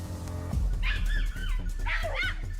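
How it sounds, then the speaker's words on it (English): A hunting hound bays and barks in a forest during a wild boar chase, several excited yelping barks over a low rumbling background, fairly close. "The moment the hound's frantic barking erupted, Leon immediately rushed forward."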